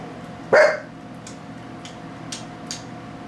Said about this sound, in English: Just because Max barked does not mean you have to bark